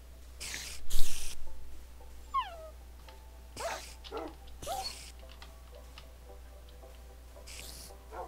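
Tamed dogs in the Minecraft video game yelp and bark in short bursts while attacking, mixed with sharp game clicks and hits over a low steady hum, with no talking.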